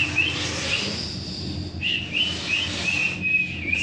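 A person whistles in imitation of a sparrow's call, repeated thin high chirps in short bursts, close and fairly loud over low background noise.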